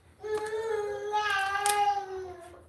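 A young child yells in the background at home during a morning routine, one sustained, high, tonal cry lasting about two seconds, moderately loud and fairly close.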